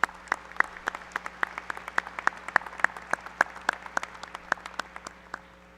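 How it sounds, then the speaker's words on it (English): An audience applauding at a university commencement ceremony, a steady patter of hand claps with distinct individual slaps in the room, fading slightly toward the end, with no speech over it. "Let's give her one more round of applause."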